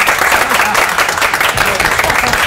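Loud, dense clapping and applause from a crowd during a speech at a political election rally, continuous and close throughout the short burst.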